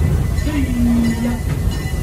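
The Serengeti Express amusement park train at Busch Gardens rolls along at close range, its steady rumble briefly topped by a wheel squeal, with a voice talking faintly beneath.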